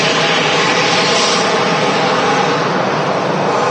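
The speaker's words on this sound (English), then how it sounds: "Tui Dreamliner rolling 2-3 right." A TUI Boeing 787 Dreamliner starting its takeoff roll on runway 23 right at Manchester Airport, a loud, close, continuous jet roar that stays intense and full throughout the short stretch.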